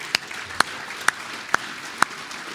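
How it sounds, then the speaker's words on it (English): At an NTPA tractor pulling awards banquet, scattered claps ring out for a new sponsor, five sharp, evenly spaced hand claps standing out over a quiet room rather than full applause. "Give him a round of applause."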